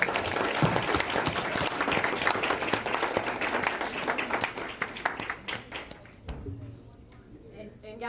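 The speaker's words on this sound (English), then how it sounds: "Let's do another round of applause for all of" An audience at an award ceremony applauding, dense sustained clapping that holds strong for several seconds, then thins and fades toward the end as the crowd settles.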